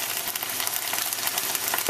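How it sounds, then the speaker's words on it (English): Mussels with fresh parsley, salt and pepper are stirred in a hot pan, giving a steady close sizzle with soft scraping throughout. "Give it a stir, make sure it's nice and mixed up"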